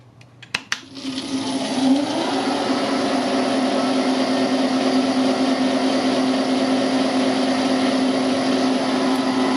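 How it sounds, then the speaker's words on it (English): Grizzly milling machine on a linked segmented drive belt, starting with a few sharp clicks, then spinning up into a loud, steady motor hum with a strong tonal drone that holds evenly throughout. "This is on the Grizzly milling machine."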